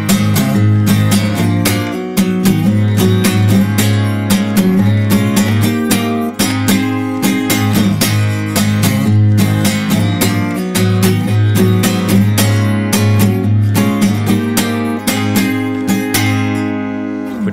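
An acoustic guitar is strummed in an even, generic pattern for a song lesson, with steady dense chord strokes filling the whole passage at close range.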